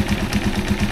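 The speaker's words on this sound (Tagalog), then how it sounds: "so ito yung maingay dito sa ating makina, itong cleaner" A Rusi Chariot 175 motorcycle engine idles with a steady, rapid pulsing chug and a loud clattery rasp from a noisy air cleaner, heard close up with no talk.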